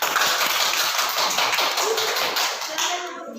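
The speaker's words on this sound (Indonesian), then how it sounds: "Beri tepuk tangan untuk kelompok 2." A classroom of children claps for a group of classmates, a loud, close burst of quick, dense hand claps that keeps going for a few seconds before tapering off, with some shuffling.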